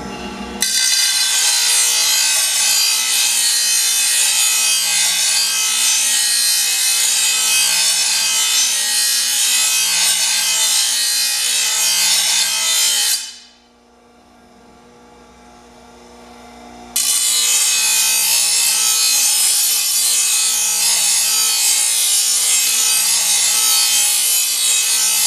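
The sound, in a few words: sharpening a lawn mower blade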